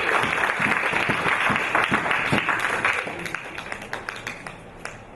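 A church congregation applauding during a Sunday service, a dense, loud wash of many hands clapping that gradually thins into scattered, slower claps toward the end.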